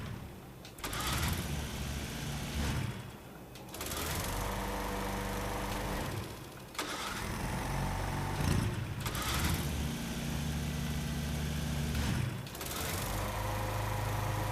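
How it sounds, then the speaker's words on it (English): A generator in the Fallout 4 video game runs with a buzzing, lawnmower-like engine drone that stays loud and steady, broken by a few brief dips where the sound cuts out and restarts. "Whoever lives here gets to listen to a lawnmower engine for the rest of their time here."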